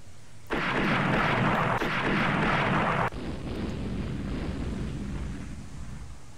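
Naval gunfire in the warship strategy game Rule the Waves, a loud sustained roaring rumble of a broadside lasting a few seconds before dropping to a lower lingering wash of noise, with no talking.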